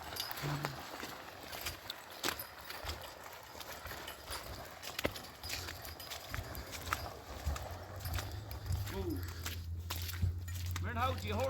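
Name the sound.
horses walking while logging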